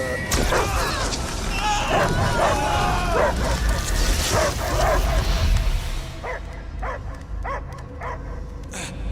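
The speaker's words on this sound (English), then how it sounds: "I hear only barking" A possessed creature barks and whimpers in the Guardians of the Galaxy video game, repeated yips and bow-wows over a low rumbling score, with talk in between and sparser sharp barks toward the end.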